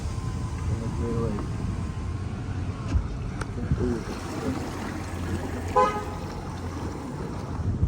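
A vehicle horn honks a few short times at a distance over engine rumble and splashing floodwater in Washington State, with people talking nearby.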